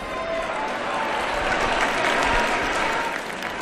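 A concert crowd in Madrid gives sustained, dense applause for a band on stage, steady and fairly close, swelling slightly in the middle before easing.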